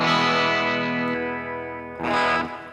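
Electric guitar played through NUX Mini Core effects pedals, a sustained distorted chord with chorus shimmer ringing out, fading, then struck again loudly near the end, alone without talk.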